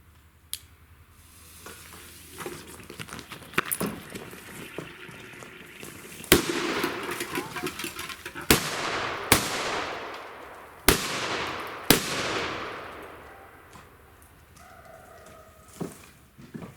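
Several loud bangs from old sulfur firecrackers go off one after another, each sharp crack followed by a crackling, fizzing tail, with faint background noise between them.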